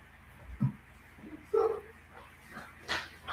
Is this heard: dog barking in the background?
yes